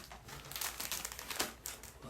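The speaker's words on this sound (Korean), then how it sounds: "일단 비닐부터 뜯어주시고" The plastic wrapper of a Pokemon chocolate roll cake being torn open close by, bursts of crinkling and rustling plastic in quick, uneven bursts, with no talk.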